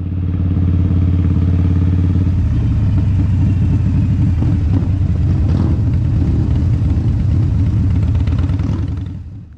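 A large group of about thirty motorbikes with pillion passengers rides along a rural road in Northland, a loud, steady, close engine rumble with clattering and shifting revs throughout.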